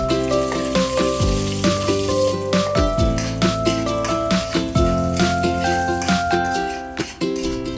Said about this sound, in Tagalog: Sa isang mainit na mantika, gisahin natin ang luya